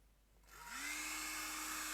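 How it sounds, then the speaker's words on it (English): A hair dryer switches on after a quiet start, spinning up into a steady loud whoosh with a rising then level motor whine, blowing onto wet paint. "I'm just going to get the hairdryer on this"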